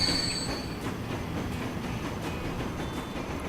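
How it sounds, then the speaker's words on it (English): A train running on rails in the video game Transport Fever, a loud, steady rumble of wheels with faint squealing tones at the start and no talk over it. "Is that the train that just dropped everything off?"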